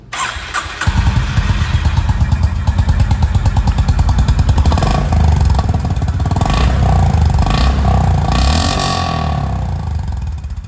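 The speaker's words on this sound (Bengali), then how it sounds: "সব থেকে আগে এখানে আরএসের আওয়াজটা আপনারা শুনুন" A Honda CB350 RS motorcycle fires up after a brief crank, then settles into a loud, steady thumping single-cylinder idle close by, with a few blips of throttle toward the end.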